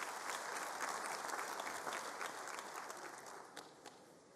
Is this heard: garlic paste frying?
no